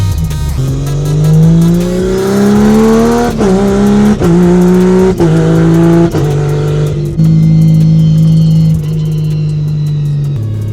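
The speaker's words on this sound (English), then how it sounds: "The burnouts the rear-wheel drive cars get to do." A rear-wheel drive car does a burnout at Queensland Roll Racing. Its engine roars loud and close, the revs climbing in stepped surges and then holding at a sustained high pitch, with no talk over it.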